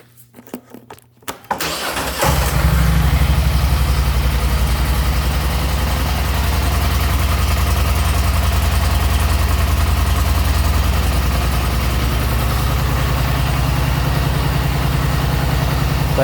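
An 850 touring four-wheeler fitted with Hays Fab parts cranks briefly, catches with a loud roar after about two seconds, then settles into a steady, close-up idle that runs alone to the end.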